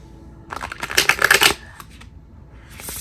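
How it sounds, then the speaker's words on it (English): A large combined tarot deck of about sixteen decks riffled and shuffled up close, a dense burst of card flutter lasting about a second, followed by softer handling. "I'm going to use my mega deck, which is about 16 decks shuffled into one."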